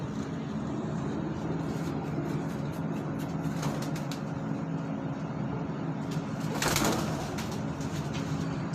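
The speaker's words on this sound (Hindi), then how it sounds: "ये आबा साहब लेकर आए हैं जी डब वाली कबूतरी" Pigeons cooing softly at night in a steady, busy background with a low hum of distant traffic; no talking.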